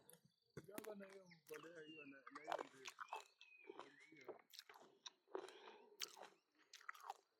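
Crunchy bites and chewing of a freshly cut, unripe green apple picked in an orchard, with someone talking throughout and crisp snaps and munching between her words.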